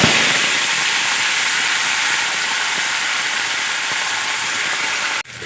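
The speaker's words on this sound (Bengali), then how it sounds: "এখন আমি প্রথমে নিম পাতাগুলো ভেজে নেব।" Neem leaves frying in hot oil in a wok on a gas stove, a loud, steady sizzling hiss that holds evenly, then cuts off abruptly near the end.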